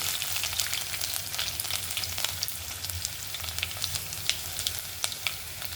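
Cumin and mustard seeds sizzle steadily in hot oil in a home kitchen pan, a continuous close frying hiss scattered with sharp crackles and pops, with no voices.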